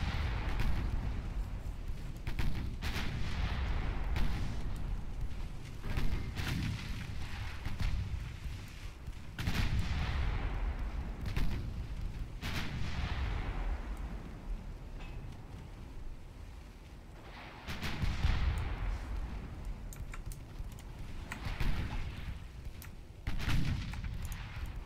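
Heavy naval guns from warships in Ultimate Admiral Dreadnoughts boom repeatedly, deep rolling blasts spaced a few seconds apart with long rumbling decays, no voices.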